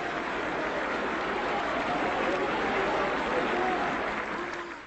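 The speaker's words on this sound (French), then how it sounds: "Lumumba est interrompu 8 fois par des applaudissements nourris" Sustained, dense applause from a large assembly, continuous and steady throughout without pause, interrupting a political speech by Patrice Lumumba at the Congo's independence ceremony.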